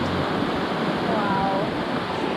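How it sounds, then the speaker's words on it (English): Babbling brook in Vang Vieng, Laos, a steady broadband rush of flowing water that fills the whole stretch at an even, close level with no voices over it. "you can have the babbling brook in the background."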